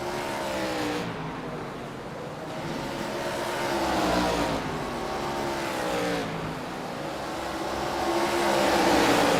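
A pack of race cars in a KKA Grayson Series event at the track, engines droning and rising in pitch as several cars pass in succession, a continuous loud roar with rhythmic swells.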